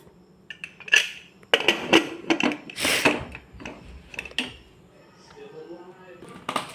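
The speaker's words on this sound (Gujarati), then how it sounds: "હવે આપણે કુકરનું ઢાંકણું લગાવી દઈશું" A metal pressure cooker lid is fitted on in a kitchen during cooking of Gujarati kadhi khichdi, giving a series of clanks, clinks and scraping knocks of metal on metal, irregular and close, with short pauses between.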